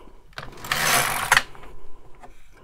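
A Silver Reed LK150 knitting machine carriage slides across the needle bed, making a brief rasping, clattering sweep followed by a few light clicks as yarn is wrapped, at close range.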